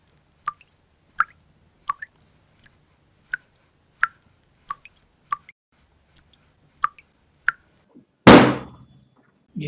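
A leaky indoor water tap drips in slow, evenly spaced single drops, about a dozen crisp plinks against near silence, before a sudden loud burst of noise cuts in at the end.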